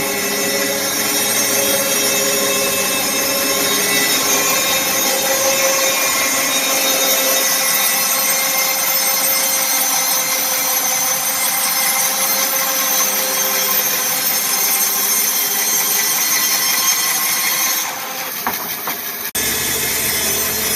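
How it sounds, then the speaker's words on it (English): A bandsaw blade resaws red oak in a continuous, loud, steady cutting roar with a high whining ring from a blade that is dulling, with a brief change near the end. "The blade's starting to sing at me, so she's trying to be sharpened again."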